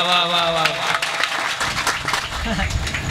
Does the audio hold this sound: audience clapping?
yes